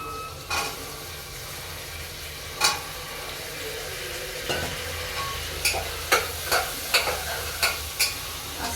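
Peas, carrots, eggplant and potato tossed into a hot pan for pulao, with a continuous sizzle and a string of sharp stirring scrapes and clanks, sparse at first and then quickening toward the end.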